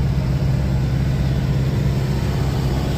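A large vehicle's engine rumbles loudly and steadily at low pitch throughout, close by, with no voices.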